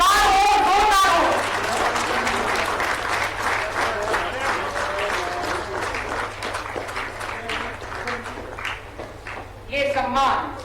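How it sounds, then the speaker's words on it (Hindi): Loud, sustained applause at a welcome ceremony for hockey players Salima Tete and Nikki Pradhan in Jharkhand, a large crowd clapping hard and steady, with a voice briefly rising over it at the start and again near the end. "तालियां हर बार हो, जोरदार हो"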